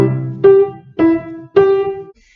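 Left-hand piano notes for the first bar of a beginner piece, played staccato: three short, clipped notes (the first preceded by a held low tone), evenly spaced and close, with nothing else heard.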